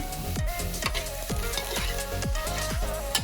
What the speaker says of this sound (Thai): แล้วก็ผัดคลุกเคล้าให้เข้ากันนะครับ ให้ทุกอย่างแห้งครับ